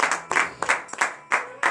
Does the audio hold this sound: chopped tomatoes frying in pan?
no